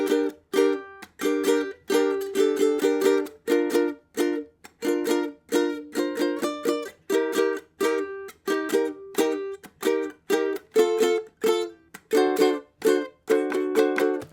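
Ukulele strumming the chords of a song, with bright, evenly rhythmic strums close up and played alone without any talking.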